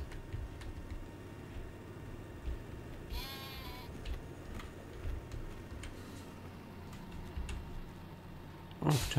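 Sheep in a Farming Simulator 19 sheepfold give a few faint, scattered bleats over a low ambient hum, with occasional clicks and a brief louder bleat near the end.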